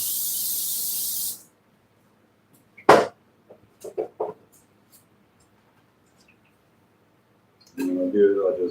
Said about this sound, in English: I'm going to go ahead and spray my pan